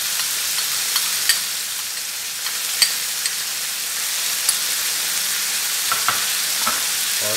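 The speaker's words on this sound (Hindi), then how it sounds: "और इसको अच्छी तरीके से हिला लेंगे" Chow mein tossed with hot sauce, chili sauce, tomato ketchup and soy sauce sizzles steadily in a frying pan, with scattered scrapes and clinks of stirring over the continuous hiss.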